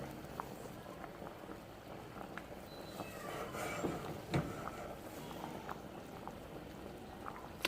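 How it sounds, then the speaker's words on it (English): Sopa de fideo, a soup with fideo noodles, boils in a pot with steady low bubbling and popping that swells slightly midway, fairly quiet and close, with no talk. "do you see the boiling pattern here, like, inside of the pot?"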